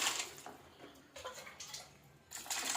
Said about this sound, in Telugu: వాటర్ పోసుకోవాలండి